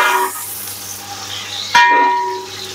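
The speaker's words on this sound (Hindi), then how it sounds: "साथ ही मैं अब इसमें प्याज ऐड करूँगी, क्योंकि हमारा जो घी है वो अच्छी तरह से गर्म हो चुका था।" Onions fry in hot ghee for a Punjabi chicken pulao, a soft hissing sizzle that jumps louder with a sudden burst near the end, close, with a faint tonal ring and light clatter.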